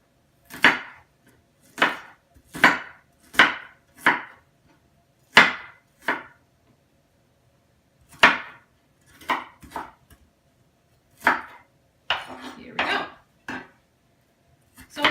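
A knife chops an onion on a board for guacamole, giving a series of sharp, close knocks in irregular bursts with short pauses between, then a quicker cluster of cuts near the end.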